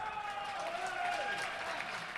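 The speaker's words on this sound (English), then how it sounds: "you can hear the crowd again" Crowd at a badminton men's singles final between Malaysia and the Philippines at the 2019 SEA Games, a faint distant wash of cheering and applause in a large arena, steady throughout, with other sounds faintly over it.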